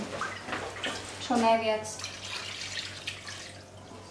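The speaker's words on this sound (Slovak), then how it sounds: "Trošku ho oblejem vodou" Water from a tap poured over beef sirloin in a pan to cover it, a steady splashing rush that swells for about a second amid a quiet kitchen, with someone speaking briefly around it.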